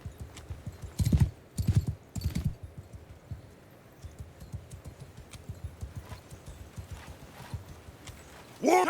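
Cavalry hooves pound in a Mount & Blade II: Bannerlord battle, with heavy clip-clop bursts of galloping horses early on, then a lighter, continuous trample of many mounts.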